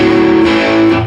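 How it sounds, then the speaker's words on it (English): A loud, distorted electric guitar power chord played without palm muting rings out openly and sustains, buzzing and full, with no voices. "if we didn't use the palm muting, it would sound like this"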